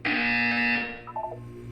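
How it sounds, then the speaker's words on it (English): Buzzer sounding in the Portal 2 video game: one loud, harsh electronic blast lasting under a second, then quickly fading with a few faint tonal blips behind it. "You will hear a buzzer."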